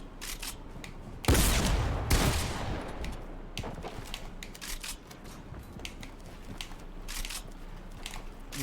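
Gunfire in Fortnite Chapter 2: a loud burst of shots around the first couple of seconds, followed by scattered sharp cracks and crackling game noise that continues at a lower level.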